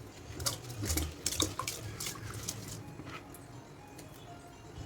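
Rice tipped into water inside an opened pressure cooker for mutton biryani makes a close run of splashing, pattering and trickling sounds that ease off into faint liquid movement.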